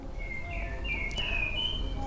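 A caged white-rumped shama gives thin, high whistled song phrases, faint and somewhat distant over a low steady hum.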